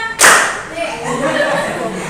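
Children in a classroom clap along in a rhythmic clapping chant, opening with a sharp loud burst and then continuing with chanting voices and claps.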